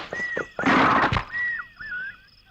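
A horse pulling a cart whinnies loudly up close, a rising neigh followed by a second shorter call, with faint clip-clop and no talk over it.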